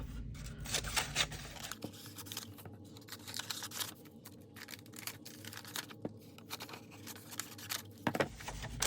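Scissors snip through paper and fabric scraps for a mixed media piece, a series of close, quiet cuts and rustles with irregular rhythm and short pauses, no speech.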